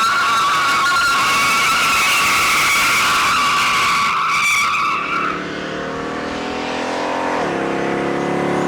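Loud, sustained tire squeal from a car doing a burnout on asphalt of a lonely private road, shrieking continuously for several seconds before fading into a revving engine that rises and drops.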